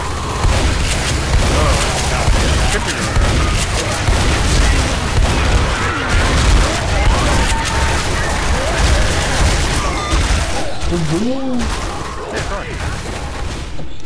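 Pistol gunfire in the zombie shooter Left 4 Dead, sharp shots and booms scattered through a dense, loud din of game noise, with voices talking throughout.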